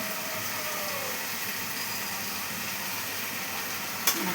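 Banana flower being stir-fried in oil, a constant low hiss of frying under a steady rumbling background hum, with one sharp clink near the end and no voices.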